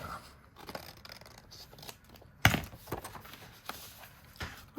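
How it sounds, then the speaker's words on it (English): Scissors cut once sharply through a Gelli print, a single crisp snip standing out above a faint, quiet room background with light handling noises. "I could shave a little bit off the bottom here. And kind of trim around here."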